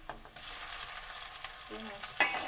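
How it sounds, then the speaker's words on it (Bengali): Ginger-garlic paste and panch phoron fry in hot oil, a close, steady sizzle with short scraping stirs and a brief clink near the end. "পাঁচফোড়ন দিয়ে আদা রসুন বাটা দিয়ে দেবো।"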